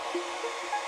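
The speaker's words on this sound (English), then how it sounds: "So why am I playing with a hairdryer and ping pong balls?" A hair dryer blows a steady broadband rush of air, keeping ping pong balls afloat, with faint tonal flickers riding the hiss; no voices.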